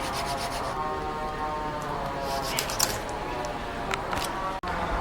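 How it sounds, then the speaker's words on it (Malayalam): Tuna skin peeled away by hand for fish pickle gives a steady close rubbing, tearing sound that runs continuously with a few sharper scrapes. "തൊലി ഒലിച്ചിട്ട് വേണം ഇതിൻ്റെ കട്ടിങ് കാര്യങ്ങളൊക്കെ ചെയ്യാനായിട്ട്"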